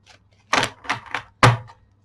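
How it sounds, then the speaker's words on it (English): A large deck of tarot cards is shuffled by hand in several short, crisp bursts of card noise, each separated by brief pauses. The sound is close and dry against a quiet room. "So shuffle, shuffle, shuffle"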